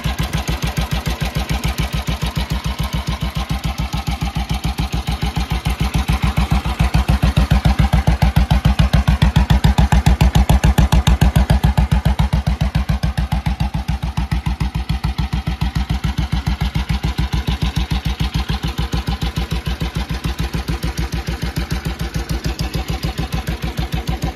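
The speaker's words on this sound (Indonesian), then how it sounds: "Nah, ini dia suara mesinnya." A 1941 BSA M21 600cc military motorcycle engine idles loud and close, its rapid steady thumping pulse swelling slightly in the middle before settling back.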